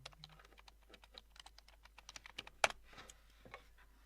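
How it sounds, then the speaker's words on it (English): A computer keyboard is typed on in quick, light, irregular taps with one sharper key strike near the end, close and fairly quiet, with no talking. "Let's type in answers, please, and see how we did."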